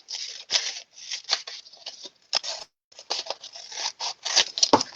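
Scissors snipping while trimming paper or twine for handmade party decorations, a quick irregular series of close, crisp cuts and rustles in a quiet room.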